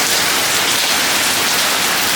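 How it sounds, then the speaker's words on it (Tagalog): Heavy rain pours down outside a house in a steady, dense, loud hiss that fills the whole stretch without letup, with no voices. "sobrang lakas ng ulan"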